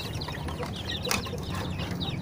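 A flock of month-old farm chickens clucks softly over a steady background hum, with short scattered calls that sound fairly close.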